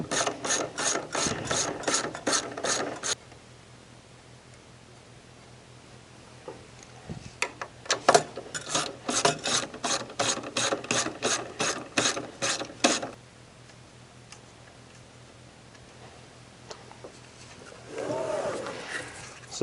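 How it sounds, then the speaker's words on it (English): A 3/8 drive ratchet with a deep socket loosening nuts during a Santa Fe compact blower replacement, giving two close bursts of rapid clicking separated by a quiet pause, followed by a short rustle. "with a deep socket 3/8 ratchet or 1/4 inch ratchet, 3/8 drive socket, just take those loose"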